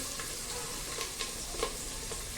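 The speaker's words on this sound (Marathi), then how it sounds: "हे सगळं छान याच्यामध्ये परतून घ्यायचं आपल्याला हे सगळं याच्यामध्ये मी परतून घेते" Onion and coriander with turmeric sauté in a pan, giving a soft, steady sizzle with a few light stirring scrapes, fairly quiet and with no voices.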